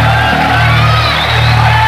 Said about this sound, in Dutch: Het publiek is fantastisch hieromheen.